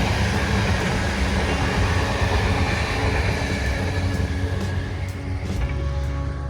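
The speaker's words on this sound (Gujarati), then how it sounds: "ટ્રેન હજી હમણાં જ ગઈ." A commuter train pulls away from a suburban Melbourne station, a steady broadband rumble and rail noise that stays loud throughout, then eases slightly near the end, with no talk.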